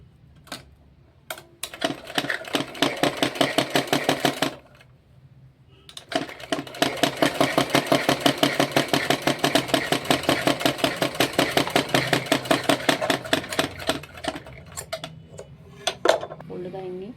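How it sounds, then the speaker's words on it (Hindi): A sewing machine stitching a folded strip for a blouse belt, with fast, loud, regular mechanical clatter in two long runs separated by a short pause, plus a few scattered taps at the start and the end. "अब हम इसको फोल्ड करके सिल देंगे।"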